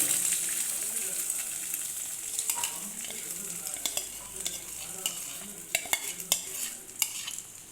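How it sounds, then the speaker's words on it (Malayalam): A swan egg fries in a pan, with a constant bright hiss and sizzle and scattered utensil clinks and stirring scrapes close by. "നമുക്ക് മുട്ട നമുക്ക് ഒഴിച്ചു കൊടുക്കാം"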